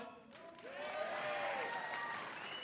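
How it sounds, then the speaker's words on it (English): A large political rally crowd applauds and cheers, the clapping swelling into a steady roar after a brief quiet start, with voices mixed in. "You applaud if you like it."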